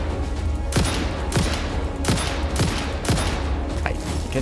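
Bursts of automatic gunfire in the factory-building game Satisfactory, about five sharp volleys spaced roughly half a second to a second apart, loud and close with no talking over them.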